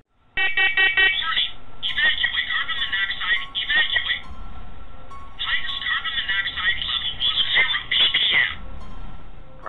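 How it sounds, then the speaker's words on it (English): A faulty household smoke alarm goes off indoors with a shrill, piercing electronic beeping that comes in long repeated bursts, while people talk over it. "Strange noises, and most recently, the faulty smoke alarm."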